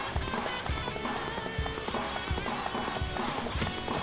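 Horse galloping in Dynasty Warriors 4, rapid rhythmic hoof clip-clop beats heard close and loud, mixed with busy battle game sound throughout.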